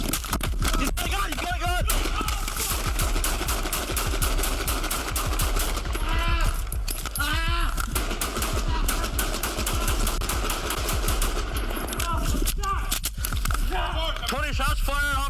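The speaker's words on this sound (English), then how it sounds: "Shots fired, officer down." Gunfire at a police officer during a bodycam encounter: a long, dense burst of rapid shots, loud and close, with shouting voices breaking through between volleys.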